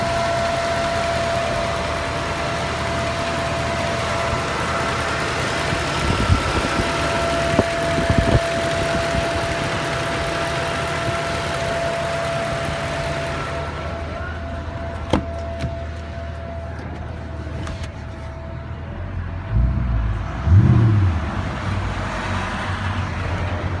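A Mercedes M156 V8 runs with a steady, thin whine held at a constant pitch over a low engine rumble for the whole stretch, with a few faint clicks and a brief low thump near the end.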